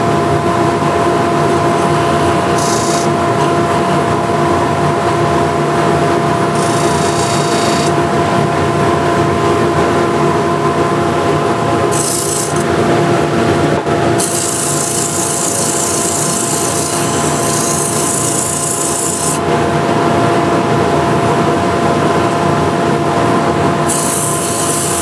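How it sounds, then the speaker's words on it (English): A dust extractor runs steadily throughout in a woodworking shop during wood turning and sanding, a loud continuous broadband roar with a few brief surges and changes in tone, no talk. "turn on the dust extractor"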